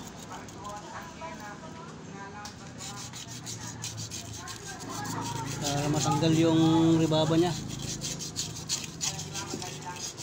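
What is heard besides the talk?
sanding washing machine motor part with sandpaper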